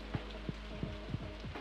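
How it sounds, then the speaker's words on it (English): Rain patters softly in the farming video game Stardew Valley, a quiet steady hiss with a few faint rhythmic ticks and no voices. "And it's raining."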